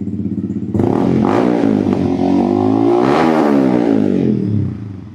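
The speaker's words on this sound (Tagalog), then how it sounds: "Rev it up." A Yamaha XSR 155 cafe racer with a bullet pipe exhaust revs loudly up close, its engine note swelling and wavering for several seconds before easing off.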